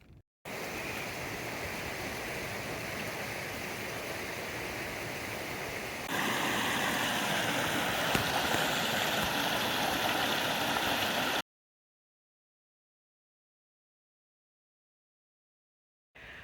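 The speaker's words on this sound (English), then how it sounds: "I'm very close to the shelter, and I stopped by this creek." A creek on the Appalachian Trail in New Jersey near a shelter, flowing steadily with a continuous rushing wash. The sound grows a bit louder partway through, then cuts to silence near the end.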